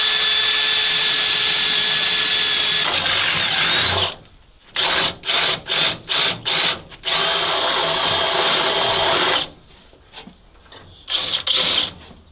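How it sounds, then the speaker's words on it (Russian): A power drill bores into the body of a KamAZ 4310 6x6 truck under restoration, running loud and steady, then stopping and restarting in several short bursts with pauses between, ending in a final run. "Сейчас сверлим и закрепляем."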